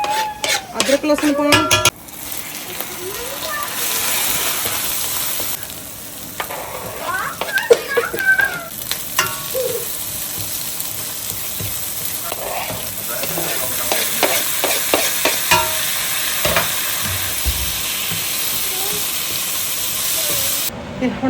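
Hot oil sizzles and crackles loudly as tempering spices hit the pan, with stirring and metal utensil clinks scattered throughout.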